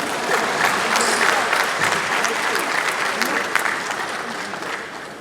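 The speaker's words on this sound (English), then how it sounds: "you will clap 3 times what you have just clapped." An audience at a national social safety net coordinating event applauds steadily, a dense wash of many hands clapping that holds strong and fades a little toward the end.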